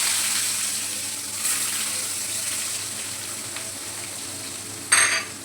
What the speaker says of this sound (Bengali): জিরে ফোড়ন দিচ্ছি। এবারে পেঁয়াজ কুচিগুলো দিয়ে দেবো।